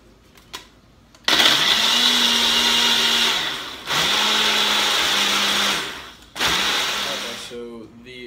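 A countertop blender whirs loudly as it mixes a protein shake, running in three separate bursts with short stops between, each burst a harsh, steady motor whine with a churning roar. A voice speaks briefly near the end.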